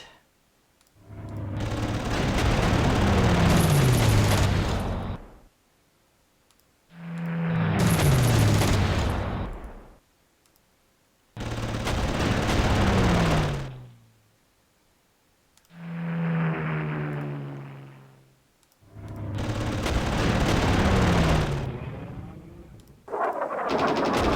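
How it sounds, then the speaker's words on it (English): Artillery fire in the video game Panzer Corps: five long, loud bursts of booming, crackling gunfire, each lasting a few seconds and separated by brief gaps. One burst is more tonal and whistling than the others. "this artillery is doing a lot of damage"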